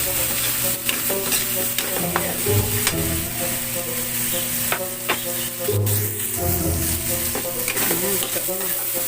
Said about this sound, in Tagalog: Then, lagay tayo na sibuyas na dahon.